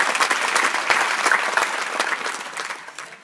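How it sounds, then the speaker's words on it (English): An audience at a UK Black History Month event gives a round of applause for Natasha, a dense burst of clapping that holds steady and then gradually fades over about three seconds. "Big round of applause for Natasha."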